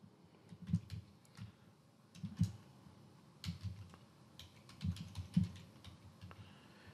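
Typing on a computer keyboard to enter a clone name, soft clustered keystrokes in short bursts with pauses, close and quiet with no talk.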